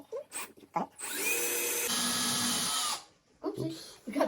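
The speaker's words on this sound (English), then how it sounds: "oopsie, we got the drill bit stuck in the wall" A power drill boring into a wall during a fire alarm system installation, a loud sustained whine lasting about two seconds and changing pitch midway, then stopping abruptly, with voices talking before and after.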